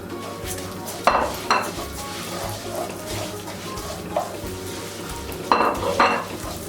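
Bulgur and toasting vermicelli being stirred in a pot, a spoon scraping with a few louder clanks against the metal rim over a soft continuous background, no one talking.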